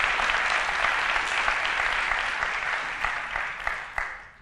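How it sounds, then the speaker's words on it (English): Audience applause at a 2018 welcome and keynote event, a dense, steady wash of many hands clapping throughout, fairly close, with a few sharper claps standing out near the end as it begins to thin. "Yeah, I think that's an applause"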